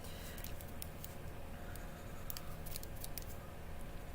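Scissors trimming a fabric scrap for a Christmas craft, heard as a scatter of faint, brief snips over a steady background hum, with no talking.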